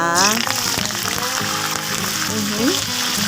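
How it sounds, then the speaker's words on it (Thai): Kaffir lime leaves sizzle and crackle loudly in hot oil, a steady dense frying hiss with a voice talking over it. "นี่เลยพี่นาทอดลงไปเลยนะคะ"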